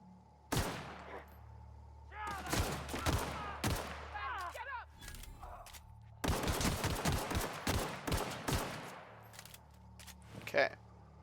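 Gunfire in The Outer Worlds as a shot is lined up on an enemy's head: several bursts of sharp shots in clusters, mixed with game effects and a steady hum, with a voice talking between volleys.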